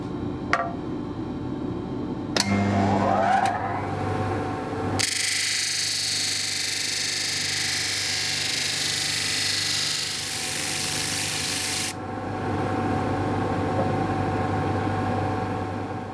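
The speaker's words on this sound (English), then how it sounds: "I need to do is go to the disc sander and we'll just bring this edge down." Disc sander working the edge of a resin and timber Darth Vader night lamp, a loud steady grinding hiss lasting several seconds between quieter motor hum and a few clunks before and after.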